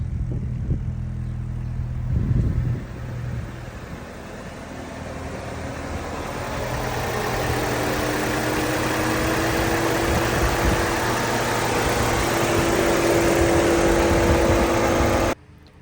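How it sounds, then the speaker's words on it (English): An abandoned Volkswagen Golf GTI's engine turns over and catches for the first time in years, then settles into a steady, smooth, even idle that hums on close by before cutting off at the end. "finally after 2 years the car was running. The engine was super smooth"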